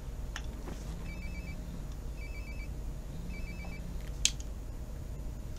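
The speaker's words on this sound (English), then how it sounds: "My phone's vibrating." A phone vibrating in Life is Strange: Before the Storm, heard as a few short buzzing pulses in a steady repeating rhythm over a quiet room-tone background, with no talking.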